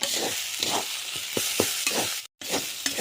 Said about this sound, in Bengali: ভালো করে ভেজে নেব পুরটা।